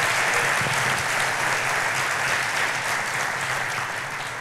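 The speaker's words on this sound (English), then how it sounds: "We want to give you a round of applause." Steady applause from a convocation audience welcoming new university faculty, dense and sustained clapping filling the hall throughout at an even level.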